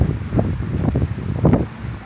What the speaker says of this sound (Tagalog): Deadly lang talaga yung hangin.